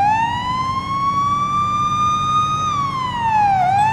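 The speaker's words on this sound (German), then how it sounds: "Die Sirene war ohne Grund angeschaltet." A police car siren in the Police Simulator: Patrol Officers game wails in a smooth rising and falling tone, loud and steady over a low engine rumble, with no voices.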